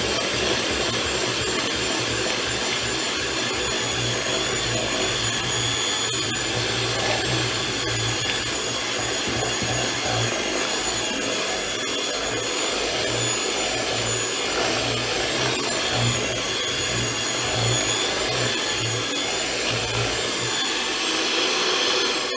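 An electric mixer beats chocolate cake batter with cocoa powder, its motor whirring in one continuous, steady, loud drone for over twenty seconds, with faint scraping as the beaters turn.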